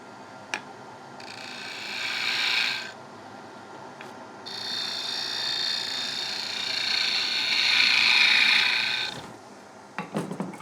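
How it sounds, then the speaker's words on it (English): A skew chisel cuts decorative lines into a wood-turned plate on a lathe, making sustained, bright, scraping hisses in two long passes over a running motor hum, with a few sharp taps. "Bit of decoration with the skew"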